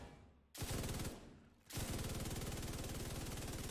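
Light machine gun in The Division 2 emptying a full magazine: loud, rapid sustained bursts with a brief pause after the first volley, then continuous fire to the end.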